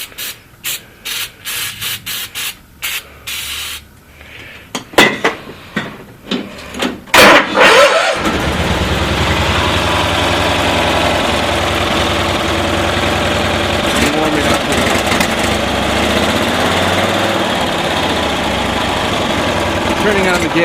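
A 1972 Cushman Truckster with a freshly repaired ignition cranks in several short bursts, then catches and settles into a steady, loud, close idle.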